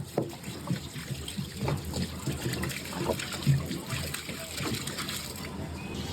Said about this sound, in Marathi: पाणी लेवलला येताच आपल्याशी मशीन फिरू लागते